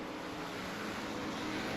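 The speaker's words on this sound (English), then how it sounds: "two noisy GT cars, the Shelby Cobra and the Corvette C2" Noisy GT cars, a Shelby Cobra and a Corvette C2, rumble as a dense, steady engine roar at a racing event at Sportsland Sugo. The sound is fairly distant and even throughout, with no clear rise or pass-by.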